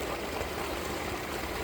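Water flowing through an enclosed koi pond with a waterfall, a constant dense rushing hiss that stays even and close throughout.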